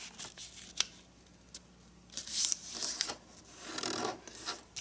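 A sheet of origami paper is folded in half, giving soft crinkling, rubbing and sliding sounds as the crease is pressed, quiet and close, with no talking.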